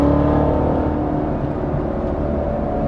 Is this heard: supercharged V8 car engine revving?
yes